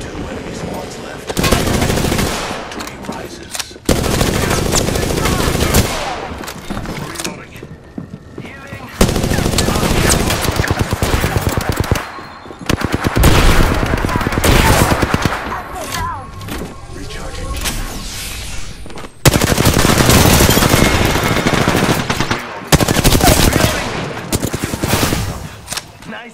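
Loud, sustained video-game gunfire in long bursts of automatic fire with heavy impacts, broken by brief lulls, with game voices speaking over the shooting.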